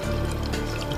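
Freshly brewed tea pours steadily into a jar for a Cendawan Mekah drink, a continuous close splashing fill running unbroken for the whole second with no talk.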